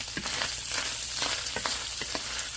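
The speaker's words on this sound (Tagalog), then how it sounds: "igisa muna natin ang pork" Pork and garlic sauté in a pan for pad kra pao, a steady close sizzle broken by light scraping stirs at irregular intervals, with no voices.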